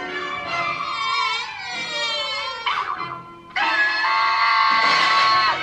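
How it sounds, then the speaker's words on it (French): Cartoon Mickey Mouse screams at full force in a shrill, sustained, high-pitched wail. Piercing cries stretch over several seconds with a brief dip and then a louder renewed shriek, loud and close. "Là typiquement Mickey il hurle de toutes ses forces"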